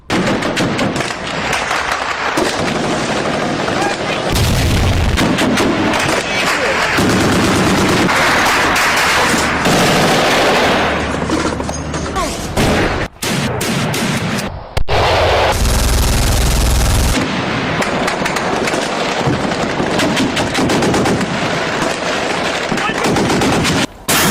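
Battle sound effects of a city under attack: dense, continuous machine-gun bursts and rifle fire mixed with heavy artillery thuds and explosions, loud and relentless throughout.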